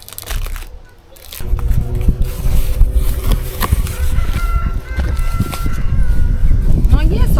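A rooster crows nearby, loud and drawn out, with clucking and rustling around it and a person talking over part of it.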